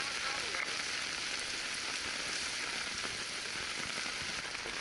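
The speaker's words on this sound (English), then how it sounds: "It's torrential downpour right now." Torrential rain pours down at a backcountry canoe campsite in Ontario, a dense, steady hiss of heavy drops drumming on surfaces, loud and unbroken throughout.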